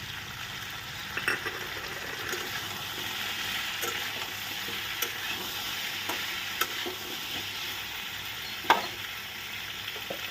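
Half-boiled jackfruit seeds fry in a pan for a vegetarian dish, giving a steady sizzle throughout, with occasional scrapes and taps of a stirring spoon.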